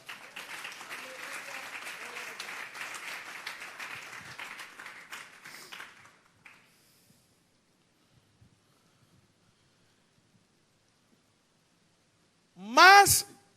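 A church congregation applauds during a Spanish-language sermon, a dense wash of clapping for about six seconds that fades into near silence, followed by a brief voice at the end.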